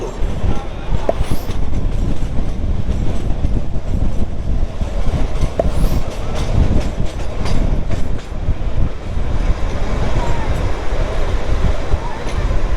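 The Kalka–Shimla toy train rumbles steadily along the narrow-gauge rails, a continuous loud rolling clatter with faint wheel squeals, close by and constant throughout.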